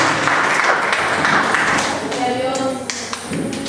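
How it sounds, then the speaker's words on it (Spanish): A church congregation at an evangelical service applauds, a steady wash of clapping that thins out toward the end, with a voice faintly over it. "Si ese aplauso fue para mí, está bien"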